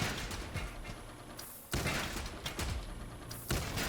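A weapon firing charge shots in a video game, a series of sharp, punchy bursts arriving at irregular intervals, fairly close and dominant, with no voice over them.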